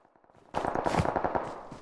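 Rapid automatic gunfire sprays in a shooter video game, a dense burst of sharp cracks starting abruptly after a quieter patter and continuing loud to the end.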